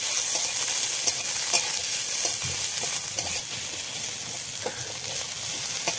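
Onions hit a pan of oil with ginger and garlic paste and chopped green chilli, giving a steady close hiss and crackle with light stirring scrapes, no voices.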